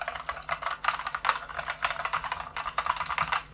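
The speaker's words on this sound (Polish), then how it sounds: "Następnie mamy przełączniki OTEMu Brown, które również są przełącznikami dotykowymi." Rapid typing on a mechanical keyboard with tactile Outemu Brown switches produces a close, steady stream of soft clacks in quick bursts, with no talking.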